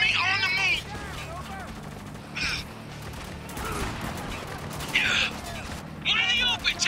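Gunfire in the shooter game Spec Ops: The Line comes in several sharp bursts spread across the clip, with a battle din underneath and voices talking in between.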